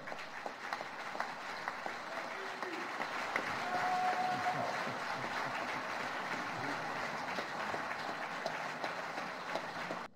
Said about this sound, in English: I ask you all to join me in applause for our special speaker tonight, the Honorable Frank Stella of Detroit.